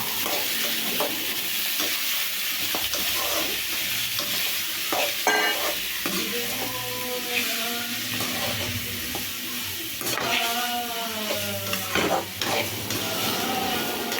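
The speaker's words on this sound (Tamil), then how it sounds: "புடலங்காயை போட்டதுக்கப்புறம் நல்லா மிக்ஸ் பண்ணிக்கலாம்" Chopped snake gourd is stirred in a frying pan, with a steady sizzle beneath repeated scraping strokes of a spoon against the pan, close and fairly loud, with no talking.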